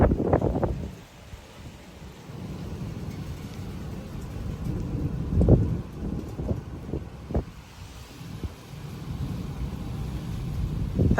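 Strong wind gusts roar during a severe thunderstorm outdoors, blustery rumbling surges buffeting the microphone, swelling and easing over several seconds with no talk.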